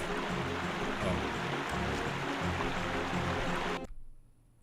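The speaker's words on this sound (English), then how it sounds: "Waterfall ahead." Rushing water from a waterfall in the video game Doom pours as a steady broadband roar, then cuts off abruptly near the end.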